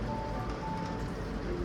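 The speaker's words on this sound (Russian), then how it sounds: "Ой, ё-моё, дождь идет." Rain falls in Moscow as a steady, soft hiss with a faint tonal hum underneath, with no voices.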